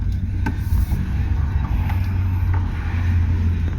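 A car carries a passenger through Kyiv toward an apartment, with a steady, close low rumble of the engine and road noise inside the cabin and a few faint knocks and clicks.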